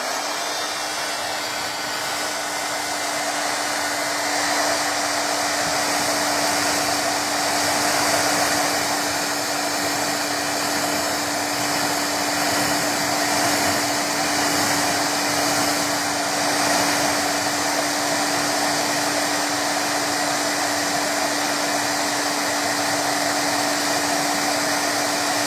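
A hair dryer blows steadily and loudly on painted earrings for about twenty-five seconds, a constant whooshing hum with a fixed motor tone and no talking.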